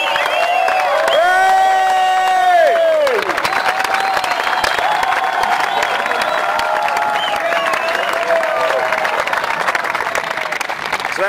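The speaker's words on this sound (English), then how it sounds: "Tradition on the MDS that everybody claps in the last person on the long stage" A crowd at the Marathon des Sables desert ultramarathon claps and cheers in the last runner finishing the long stage, with loud sustained applause and several rising whoops and shouts near the start.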